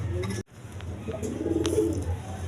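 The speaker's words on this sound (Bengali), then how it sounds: "এইখানে এক পেয়ার আমেরিকান ফ্যান্টাল লক্ষা কবুতর আছে" A pair of American fantail pigeons coo on a pigeon farm, soft repeated low cooing close by after a brief gap near the start, with no speech.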